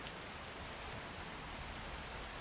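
Steady rain falls in the video game Skyrim, a continuous even hiss of drops on the ground with no talk, outdoors beside a dead giant.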